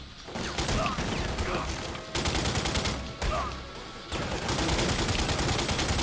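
Gunfire in the video game The Godfather 2 rattles on almost without a break, dense and loud, with bursts that sound like distant shots coming from several directions and short lulls between volleys.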